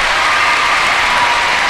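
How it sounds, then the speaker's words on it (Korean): A packed arena applauds the Canadian synchronized swimming team after its 1999 free routine, a loud, dense, unbroken roar of clapping filling the whole moment. "박수를 받고 있습니다."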